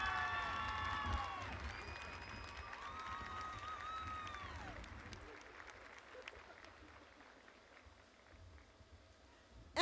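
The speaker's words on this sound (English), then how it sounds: "One more round of applause for all of these wonderful kiddos." A high school graduation audience cheers for the graduating kids with high whistles and shouts over a crowd roar, loudest at the start and then thinning to a quieter murmur of scattered clapping and voices.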